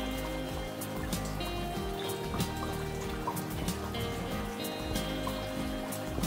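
An eel climbing with the force of its tail splashes and drips water nearby, with scattered sharp droplet hits over a steady trickle of running liquid and almost no talk.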